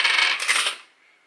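Dollar coins drop and clatter together in a loud, bright metallic jingle that lasts under a second and then fades, heard close up with no voices.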